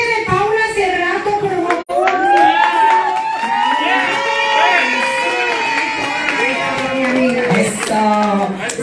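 A crowd applauds and cheers for Miss Alvarado at a film premiere, clapping and excited voices sustained throughout, with a brief cut near the start and people talking amid the noise.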